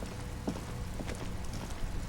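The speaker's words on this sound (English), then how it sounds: "It's raining again." Steady rain falls in the video game Disco Elysium, an even, dense hiss with faint scattered patter throughout.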